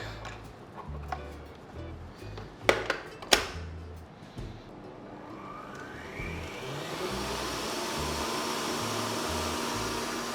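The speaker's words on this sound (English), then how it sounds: "So we're whisking this on high speed." An electric mixer starts up and runs steadily on high speed, whisking egg whites for vanilla cupcakes, its continuous whirring hum building after a few clicks and knocks as it gets going.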